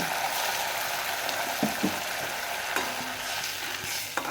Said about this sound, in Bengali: ভেজে নিয়ে আমি এর মধ্যে দিয়ে দেবো সামান্য জল